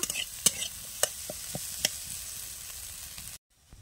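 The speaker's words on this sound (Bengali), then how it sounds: "দিয়ে ভালো করে কিন্তু মশলাটা একসঙ্গে মিশিয়ে নেব।" A spatula stirs ginger, turmeric and ground spices together in a pan for a cauliflower samosa filling: irregular sharp scrapes and taps over a steady soft sizzle, cut off abruptly near the end.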